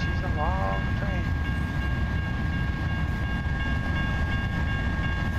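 Long freight train rolling past in American Truck Simulator, a steady loud rumble of rail cars with a brief horn blast near the start.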